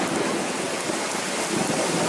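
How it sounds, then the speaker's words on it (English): Steady rain falls on a surface in a storm, with a low rumble of thunder from a nearby lightning strike blending into the continuous downpour; horses are present outdoors, and no one speaks. "Notice you see the flash, and then you hear that bang."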